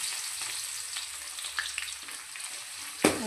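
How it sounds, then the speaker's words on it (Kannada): Mustard seeds heat in a little oil in a pan, giving a steady close sizzle with scattered small pops. A sharper crackle bursts near the end. "ಸ್ವಲ್ಪ ಬಿಸಿ ಆಗಬೇಕು ಸಾಸಿವೆ ಈ ಚಟಪಟ ಅನ್ನಬೇಕು"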